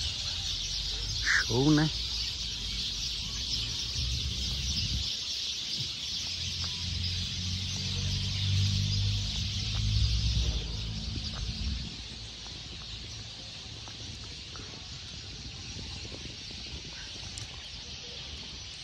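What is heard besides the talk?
birds and chickens calling outdoors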